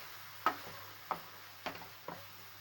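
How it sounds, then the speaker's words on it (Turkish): Minced meat being sautéed in a frying pan, heard as four sharp spatula scrapes and taps against the pan, spaced roughly half a second apart, over a faint, soft sizzle. "Tekrardan şöyle 1 dakika 1-2 dakikada kadar kavuracağım bunu."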